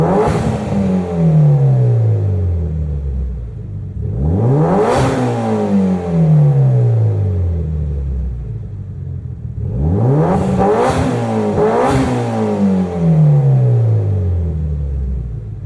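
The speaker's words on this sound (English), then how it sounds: "Oh yes, it's the Mitsubishi Lancer Evo 3 GSR. Let's have a good old listen to this one at 100k." Mitsubishi Lancer Evo 3 GSR engine in a racing video game revving hard in three bursts, each pitch climbing through gear changes then falling, loud and close with steady engine rumble throughout.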